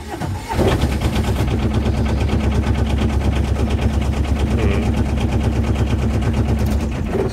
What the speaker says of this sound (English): So there it's going to start straight away, because obviously I've only just started it up.